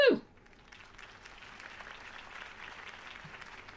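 Crowd applauding and cheering after Harvey Dent's campaign speech in Batman: The Telltale Series, a steady wash of clapping that holds at even strength after a brief louder sound at the start.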